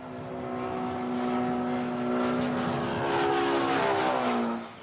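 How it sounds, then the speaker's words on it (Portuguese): An airplane engine drones steadily, its pitch sliding lower as it passes, then the roar fades quickly at the end. "Quando o aviãozinho se aproxima e depois se afasta, o barulho que ouvimos muda."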